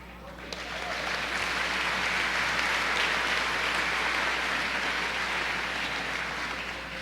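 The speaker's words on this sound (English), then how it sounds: "let's hold applause till the very end" Broad applause fills a high school commencement crowd, rising quickly to a dense, sustained clatter of many hands, then easing slightly toward the end, heard from a distance with no talking over it.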